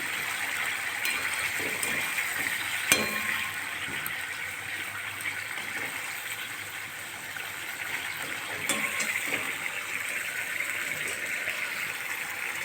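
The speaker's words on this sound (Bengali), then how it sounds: "মাছের ঝালটা ফুটে গেছে, এবার আমি মাছগুলো দিয়ে দেবো।" Fish go into a boiling spicy fish curry, which bubbles and gurgles steadily close by, with one sharper splash early on and no talking over it.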